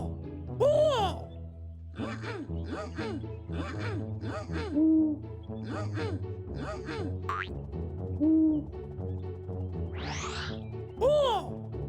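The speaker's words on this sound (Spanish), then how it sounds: "¡Búho! ¡Búho!" In a children's animal-learning cartoon, repeated owl hoots sound among a bouncy, tuneful electronic backing, with a whistling swoop near the end and occasional voiced sounds.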